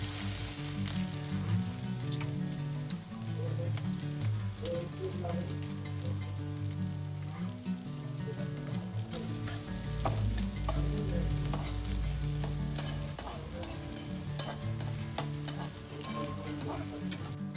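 Onion sizzles and crackles as it fries in oil with curry leaves for a fish dish, steady and close, with scattered clinks of a spoon stirring the pan throughout.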